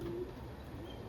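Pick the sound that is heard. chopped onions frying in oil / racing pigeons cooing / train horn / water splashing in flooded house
racing pigeons cooing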